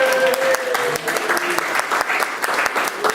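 An audience breaks into loud, dense applause for Art Robinson, close and continuous for a few seconds with no talk over it.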